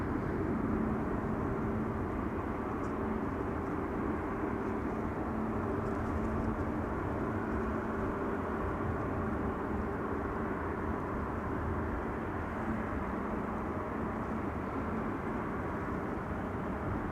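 An airplane lands at Amsterdam Schiphol Airport: a steady, broad roar of engines and rushing air holds evenly at moderate distance throughout, with no voices.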